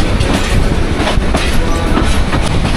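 A train rolls through Santahar railway station, a large junction with many tracks, its wheels rumbling and clattering close by in a dense, continuous roar.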